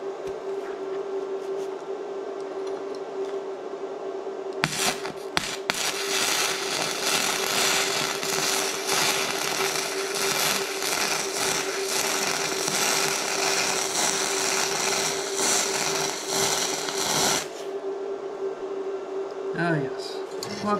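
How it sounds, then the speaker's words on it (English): Flux-core welding of a seam with a Bestarc MIG145 multiprocess welder: a loud, close, harsh crackling sizzle runs steadily for about thirteen seconds, starting and stopping abruptly, with a constant electrical hum underneath before and after. "I'm going to try to weld this seam right here,"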